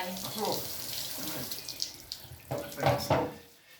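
Tap water runs steadily at a sink while red hair dye is rinsed out at home, a broad continuous hiss with a few brief splashes, and soft voices talk over it.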